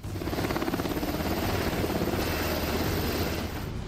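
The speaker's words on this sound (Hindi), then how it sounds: "इसके बाद ब्लैक हॉक हेलीकॉप्टर भी स्पेशल फोर्स को लहरों के पास उतारता है।" A Black Hawk helicopter sets special forces down near the waves on a beach, its rotor beating with a loud, steady, rapid thump and a broad roar that runs unbroken throughout, with no voices.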